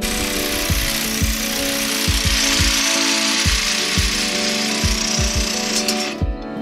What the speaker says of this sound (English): We used a jigsaw instead of a reciprocating saw to cut the hole this time